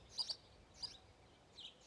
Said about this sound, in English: you can hear the sound of the bird.